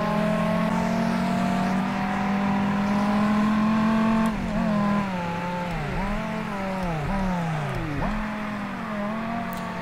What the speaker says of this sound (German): Ich höre den Ferrari hier noch irgendwo,